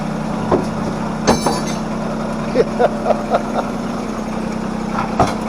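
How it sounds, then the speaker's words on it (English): A John Deere tractor engine idles steadily with a low continuous hum, punctuated by a few faint knocks and clanks nearby. "the tractor's running"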